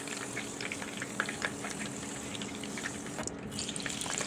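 Zucchini frying lightly in a cooking tray for a warming vegetable dish, giving a steady, close sizzle with scattered crackles and pops throughout and no talking.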